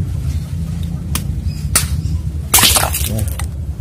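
A glass bottle is struck hard to break it, and the blows land as a few sharp cracks over low background rumble. The loudest is a crashing smash near the end.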